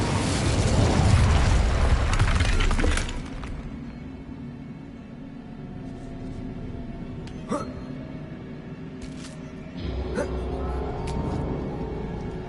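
A fiery Incendio spell from Hogwarts Legacy bursts out in a loud, roaring whoosh for about three seconds, then dies away to a quiet ambient hum with a few faint clicks and soft impacts.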